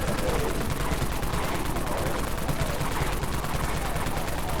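Wraith Cannon fire in the game Dead Frontier, a dense, continuous barrage of rapid, loud shots rattling without pause throughout, with faint voices mixed in under the gunfire.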